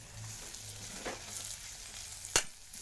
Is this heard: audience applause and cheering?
no